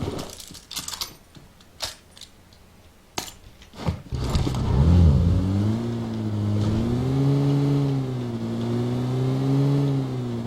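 A car in the PUBG Mobile video game starts up after a few sharp clicks and knocks, then its engine drones and revs steadily, rising and falling in pitch.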